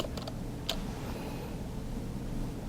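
Fast clicks from a computer keyboard being typed on, a few brief keystrokes near the start over a steady low hum, then quiet.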